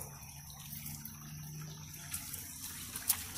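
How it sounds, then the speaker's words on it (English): A small waterfall in a creek gives a faint, steady rush of falling water, heard from some distance as an even wash of sound with a few brief louder splashes near the end. "And this is the waterfall."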